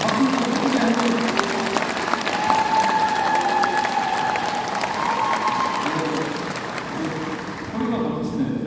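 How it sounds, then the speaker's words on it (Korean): A crowd of county residents at a town-hall meeting with the provincial governor claps loudly and continuously, with scattered shouts and voices rising over the steady applause. "박수를 크게 하고"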